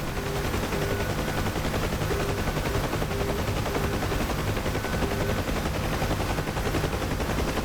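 Door gunner on a Huey helicopter in DCS World fires a machine gun in sustained bursts over the steady, close rotor and engine drone, with no pauses and no voices.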